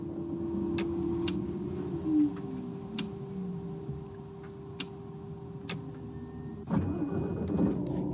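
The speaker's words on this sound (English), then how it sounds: "Okay, so that's engine." A bus engine in the Tourist Bus Simulator video game idles with a steady hum and a regular ticking, then kicks up with a louder rumble as it starts.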